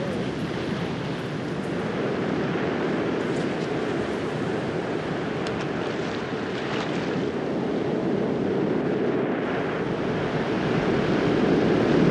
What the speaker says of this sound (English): Very treacherous waters, especially the way the tide's running out, waves coming in